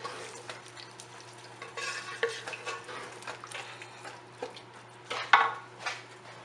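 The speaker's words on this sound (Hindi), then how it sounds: "5-10 मिनट के लिए हमने दालों को भूनना है" Lentils roasting in a pot for haleem, stirred with a utensil: faint, irregular scraping and light sizzle with occasional sharper clinks against the pot, steady and alone without voices.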